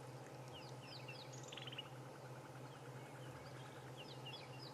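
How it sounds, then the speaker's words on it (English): A groundscraper thrush calls at dawn in an African safari setting, faint chirping phrases in two short bursts over a low steady hum and outdoor ambience, distant and quiet. "I can hear a ground scraper thrush."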